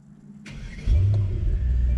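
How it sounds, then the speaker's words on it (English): A 2020 Mercedes-AMG GT 63 4-Door Coupe 4Matic starts up with a short starter whir, then its engine catches in a sudden loud, deep rumble that settles into a steady, throaty idle close by. "I'm going to start the engine real quick."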